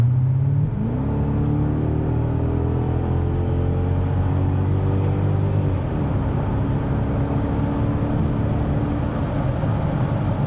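A Mercedes W210 E430 from 2001 with its V8 engine pulls hard while driving with a window down, the note rising through a gear then dropping to a steady loud drone that continues throughout, with no talking.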